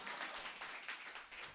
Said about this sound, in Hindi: तालियां बजा दें, हाँ।